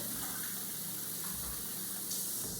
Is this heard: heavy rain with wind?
no